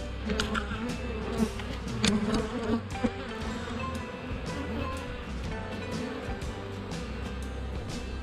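A dense, steady hum of honeybees swarming around an open hive during a spring inspection, loud and continuous for the whole stretch, with faint handling noises now and then.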